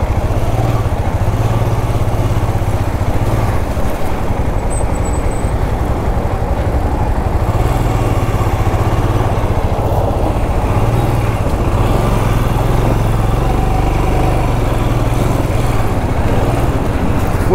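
An adventure motorcycle crawling in first gear over a rough, badly broken road, its engine a steady low rumble close by, mixed with constant wind and road noise.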